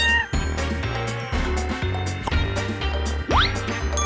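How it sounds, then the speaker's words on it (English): A cartoon-style cat meows from a children's animal toy, set against a steady looping musical backing with a rising swoop near the end. "A cat."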